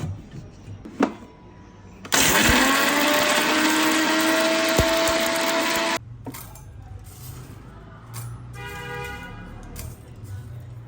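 An electric grinder whirs loudly for about four seconds while grinding ginger for olive pickle, starting abruptly and cutting off sharply, with softer clinks and handling noises before and after.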